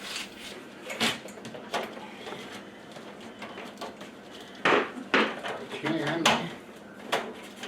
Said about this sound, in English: Then I install the new filter.